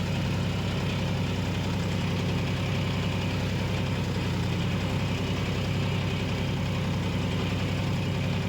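A John Deere 5050 D 4x4 tractor pulling a five-tine plough through a field produces a loud, unbroken engine drone with a low, slightly knocking rumble, and no voices.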